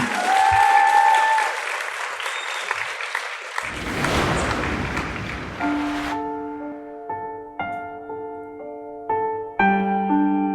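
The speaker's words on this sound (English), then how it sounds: "And a massive round of applause." Audience applause at a live talent show semi-final in Wales, a loud burst of clapping and cheering for several seconds that fades as sustained musical instrument notes begin and carry on alone.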